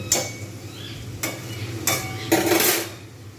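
Hyderabadi dum biryani being stirred in a pot, with a few distinct scraping strokes of a spoon against the metal spaced about a second apart over a low steady hum, close and clear, no voices.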